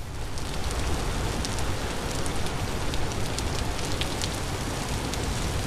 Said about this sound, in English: Does it never stop raining here?